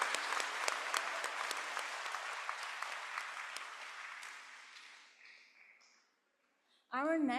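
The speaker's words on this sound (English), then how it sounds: "give them another round of applause to thank their effort" At a graduation ceremony, an audience applauds loudly and steadily, then the clapping thins and fades to near silence before a voice begins speaking right at the end.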